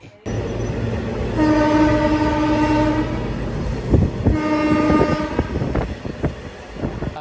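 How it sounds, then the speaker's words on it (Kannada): A moving passenger train carries the listener along, its loud steady rumble and wheel clatter joined by two long sustained horn blasts, with no talk. "ಟಿಕೆಟ್ ತಗೊಂಡು ಟ್ರೈನಲ್ಲಿ ಜರ್ನಿ ಮಾಡ್ತಾ ಇದ್ದೀವಿ"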